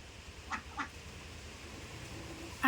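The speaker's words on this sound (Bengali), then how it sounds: "দেখতেই পাচ্ছেন ওই যে আমাদের কালো রঙের হাঁস" Two short quacks from black ducks rise faintly at a distance over a steady low background hum, with a louder noise at the very end.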